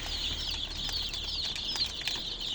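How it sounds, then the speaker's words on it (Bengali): Nine-day-old desi chicks in a brooding pen, a dense chorus of high, thin peeping cheeps overlapping continuously at close range, with a few soft wing flutters and no voices. "আমার 9 দিন বয়সী দেশি মুরগির বাচ্চাগুলো মাশাল্লাহ মাশাল্লাহ, প্রত্যেকটা বাচ্চা কত সুন্দর, কত অ্যাক্টিভ"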